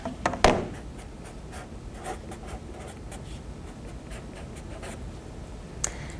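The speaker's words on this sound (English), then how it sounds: "and write that down." A pen writes down a maths calculation, with a few sharp taps and then a soft, steady scratching of strokes close up and no voice.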